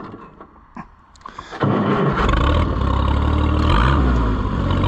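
An Oliver 77 tractor with no working clutch starting up: a few faint knocks, then the engine catches and runs loud and close at a steady rough roar, with no talk.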